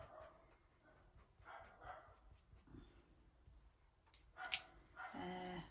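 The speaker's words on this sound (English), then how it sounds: "that's the neighbour's dog" A neighbour's dog across the road barks in a few short bursts near the end, fairly distant and loud against a low background hum.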